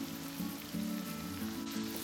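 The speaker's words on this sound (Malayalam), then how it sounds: "ഇത്രയും ഇട്ട് കൊടുത്ത് നല്ലപോലെ ഒന്ന് ഇളക്കി കൊടുക്കാം" Ginger, fresh green peas and curry leaves sizzle in a hot pan for wheat upma, a short burst of close frying hiss with soft rhythmic stirring scrapes.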